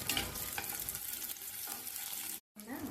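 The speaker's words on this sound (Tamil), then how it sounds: "ஸ்டவ்வை 5 நிமிஷம் மீடியம் ஃப்ளேம்லேயே வச்சு சின்ன வெங்காயத்தை வதக்கி விட்டுக்கோங்க" Small onions sauté in oil over a medium flame, giving a soft, even sizzle with occasional scraping stirs, briefly cut to silence near the end before the frying resumes; no talking.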